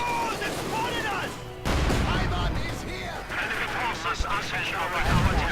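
T-34 tank cannon firing in a World War II strategy game, one heavy boom among scattered gunfire and battle noise, under continuous commentary talk.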